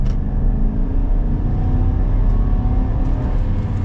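A 2023 Chevy Silverado HD with the 6.6L gas V8 pulls steadily under acceleration, a loud, continuous engine and road drone heard from inside the cab, with no speech.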